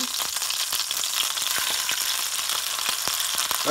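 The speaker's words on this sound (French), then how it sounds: "dans du gras, on va faire cuire les gros morceaux du côté cru seulement" Large chicken pieces frying in fat on their raw side for chicken yassa with lime, giving a dense, even crackling sizzle that stays loud and close throughout, with no voices.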